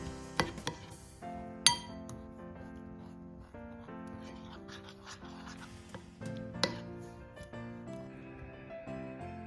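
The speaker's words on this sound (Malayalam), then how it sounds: "പാലും ബട്ടറും ബിസ്ക്കറ്റിന്റെ പൗഡറും കൂടെ നന്നായിട്ട് മിക്സ് ചെയ്യാം." Sharp clinks of a spoon against a bowl ring out a few times while milk, butter and biscuit powder are mixed for chocolate cupcake batter, with steady background music running throughout.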